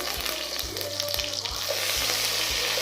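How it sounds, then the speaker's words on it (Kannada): Cinnamon, clove, cardamom, cumin, pepper and two green chilies fry steadily in hot oil, a dense continuous crackle with regular thumps of stirring close by. "2 ಗ್ರೀನ್ ಚಿಲ್ಲಿ ಹಾಕ್ಕೊಂಡು ಫ್ರೈ ಮಾಡ್ಕೊತಾ ಇದ್ದೀನಿ"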